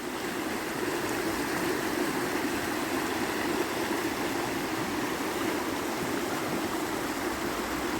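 The Water of Leith river, swollen after days of rain, flowing steadily nearby along a wooded walkway, a continuous even rushing murmur with no voices.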